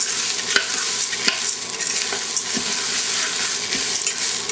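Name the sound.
stirring black beans in butter in a pot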